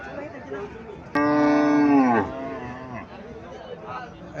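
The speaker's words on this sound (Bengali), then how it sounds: "এখানে একটা গাভী দেখা যাইতেছে" At a cattle market in Chauddagram, a single cow lets out one clear, drawn-out moo lasting about a second, heard over a low murmur of crowd chatter and background noise.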